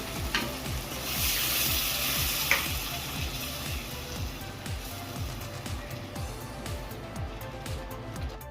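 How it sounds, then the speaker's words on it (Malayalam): Semolina (rava) being stirred in a pan while it cooks for rava kesari, giving a steady sizzle and a rapid rhythmic scraping of spoon against pan, close by with no speech. "ഇതൊന്ന് ഇളക്കി കൊടുക്കാം."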